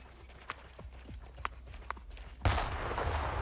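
A grenade goes off in the video game S.T.A.L.K.E.R. 2 with a sudden loud, booming blast and rumbling tail, following several sharp scattered gunshots.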